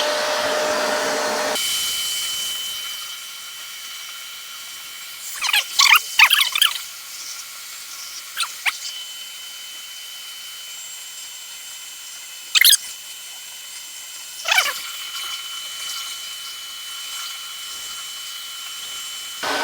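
A household vacuum cleaner whines for a couple of seconds, then stops. Faint hum follows, broken by scattered sharp squeaks and brief bursts.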